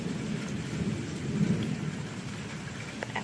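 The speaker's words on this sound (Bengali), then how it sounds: "মেঘ ডাকছে" Low rolling thunder rumbles under steady rainfall, a dense patter of drops on surfaces continuing throughout, with a few faint clicks near the end.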